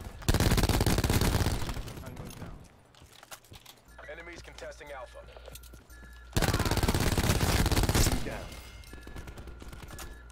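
Spitfire submachine gun fire in Call of Duty: Black Ops 4, loud dense bursts of rapid shots at the start and again near the end, with a quieter stretch of game sounds between and a voice talking over it.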